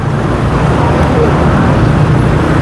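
Dense road traffic noise around a moving motorcycle in Philippine traffic, a steady loud rumble and wash of engines with a voice talking over it.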